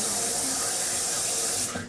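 Tap water runs steadily into a sink for a quick rinse while preparing a quiche, a close, continuous hiss that stops abruptly at the end.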